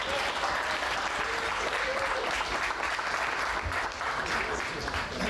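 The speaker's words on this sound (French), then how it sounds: "S'il vous plaît, applaudissez pour Pierre Lacroix." An audience at an evening show in Quebec applauds steadily and loudly, a dense sustained wash of clapping that holds for several seconds without a break.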